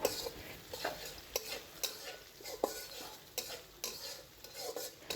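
Chopped onions fry in hot oil for prawn fried rice, giving a quiet sizzle under a steady rhythm of stirring scrapes and utensil clatter against the pan.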